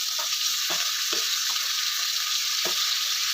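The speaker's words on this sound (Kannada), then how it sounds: "ಚೆನ್ನಾಗಿ ಫ್ರೈ ಆಗಲಿ ಇದು ಆಯಿಲಲ್ಲಿ." Chopped tomatoes fry in oil in a pan with a steady, loud sizzle throughout, broken by a few soft stirring scrapes.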